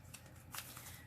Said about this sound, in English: The cards are like pretty much refusing to shuffle nicely for me